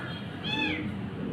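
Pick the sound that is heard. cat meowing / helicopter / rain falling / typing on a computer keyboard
cat meowing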